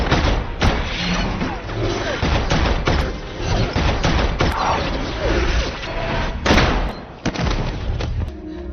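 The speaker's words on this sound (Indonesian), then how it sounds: "Yang seketemunya mereka di sana, Chris pun memaksimalkan kemampuan penerawangannya untuk menghindari peluru yang Smith tembakan." Rapid bursts of gunfire in an action film crack loudly and repeatedly over a dense, rumbling action soundtrack, with scattered sharp impacts throughout.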